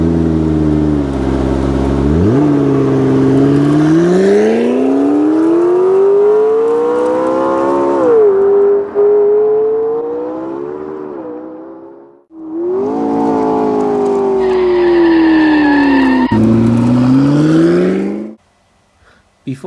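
A Bugatti Chiron and a McLaren racing, their engines revving loudly and close in long rising and falling sweeps that run almost without a break, with no voices.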